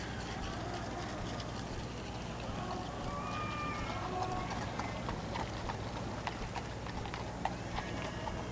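Horses' hooves clip-clop steadily as they pull the Queen's ivory-mounted phaeton carriage across Horse Guards at Trooping the Colour, a continuous trotting rhythm set against a dense wash of outdoor crowd and ambient noise.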